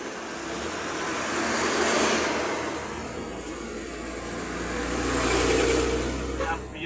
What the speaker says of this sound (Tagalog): Papasok yung dump truck.